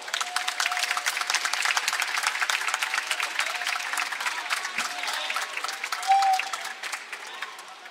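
A live audience at a fan event claps loudly and continuously to welcome the guest, with dense applause throughout and a few voices rising over it.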